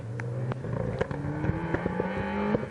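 A little 2-litre Ford Ka rally car works hard along a tight, twisty forest stage, its engine revving and dropping in quick bursts with gear changes, heard from a middle distance with no talk over it.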